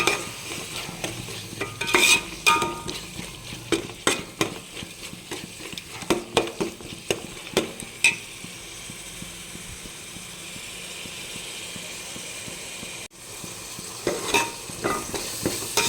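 Tomato masala for beef gravy sizzles steadily in a pan while a spoon scrapes and stirs it in irregular clanks and knocks, close up, with no voices.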